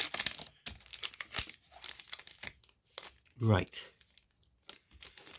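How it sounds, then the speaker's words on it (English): A Match Attax trading card pack is torn and crinkled open in short rustling, crackling bursts, close to the microphone, with someone talking intermittently over the handling. "Just trying to get the cards out of the pack."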